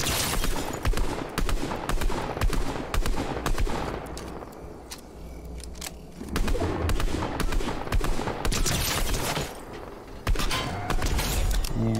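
Ranger Shotgun blasting repeatedly in a video game, loud close shots in quick rapid bursts with short pauses between volleys, some crackling impacts mixed in.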